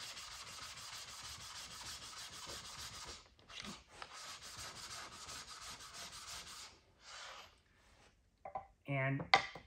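A sharpening stone rubbed flat on a diamond lapping plate, giving a steady close gritty scraping in repeated strokes, with short pauses and a few clinks near the end.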